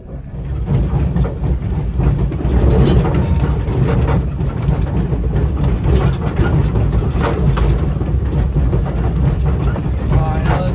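Steam locomotive running at the Pioneer Tunnel, a steady heavy low rumble of the engine with rail noise, loud and continuous for the whole stretch.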